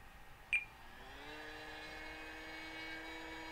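A simulated AP60 Apprentice S 15e electric RC plane spools up on its takeoff roll, a thin, faint whine rising in pitch and then holding steady after a brief click.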